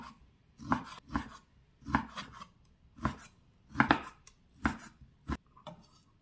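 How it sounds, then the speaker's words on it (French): A knife chops beef into strips on a cutting board, about a dozen distinct, close thuds coming in loose pairs and singles at an unhurried pace. "je vais couper la viande en lamelles pour faire cuire plus vite"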